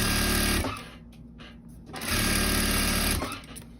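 A sewing machine backstitches and stitches elastic along the edge of fabric for a doll, running in loud close bursts separated by a short pause, with faint talk in the background.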